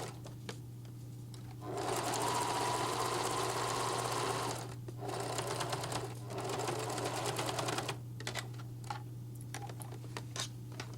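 A sewing machine stitches a sun dress seam in bursts, a loud rapid mechanical whir running for a few seconds, pausing, then resuming in shorter runs with a steady background hum.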